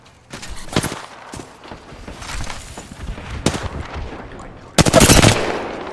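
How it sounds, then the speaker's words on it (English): Automatic gunfire in Apex Legends sounds as sharp bursts, loud and close, with a heavy volley at the end and softer shots and game noise between. "I am taking fire, friends."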